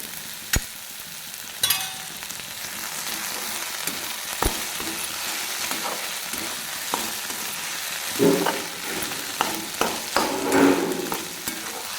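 Onions and rice frying in oil in a pan, a steady close sizzle with sharp clinks and scraping stir strokes scattered throughout, louder stirring bursts near the end; no talk.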